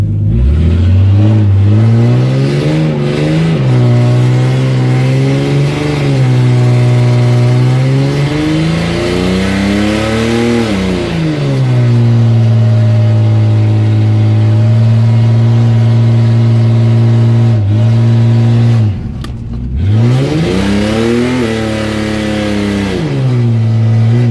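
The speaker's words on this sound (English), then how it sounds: "Just keep it like a slow power skid going." A Barra-powered Ford AU car revs hard and steadily in a slow power skid, its engine note rising and falling in loud sweeping waves with a brief dip near the end.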